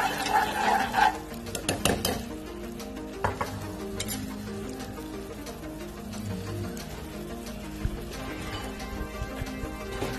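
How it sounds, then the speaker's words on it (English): Ingredients being stirred in a pan for pan-fried Cajun salmon with creamy caper lemon sauce: a few clinks of a utensil against cookware, then soft scraping and gentle stirring over a faint sizzle. "Just give it a little stir."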